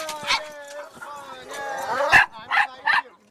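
Dogs on a group walk led by a dog walker who handles thirty dogs a day: a few short, close barks and yips rise over a person talking nearby.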